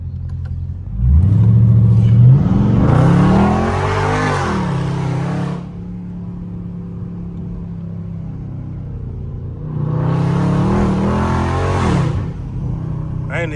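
A Dodge Scat Pack car engine revs hard and accelerates while driving, with a deep rising roar building near and loud, easing off, then surging again in a second burst.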